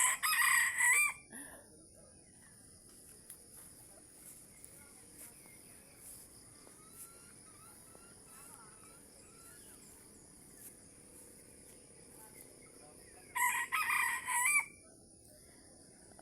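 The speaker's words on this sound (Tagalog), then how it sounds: "may bantam na manok" A bantam rooster crows twice, once at the start and again near the end, on a rural farm in the morning, with a quiet outdoor hush and faint insect chirping in between.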